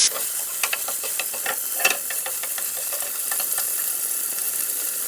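Bacon frying in hot oil in a pan gives a bright, hissing sizzle with scattered pops and crackles, loudest at first and then settling into an even spatter.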